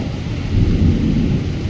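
Thunderstorm with heavy rain over an open field in the evening, a steady roar of downpour and rumbling thunder swelling midway, loud and continuous with no talking.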